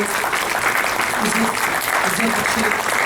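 Audience applause at a mushaira and kavi sammelan poetry gathering: loud, sustained clapping from a large hall crowd, with voices mixed in beneath it.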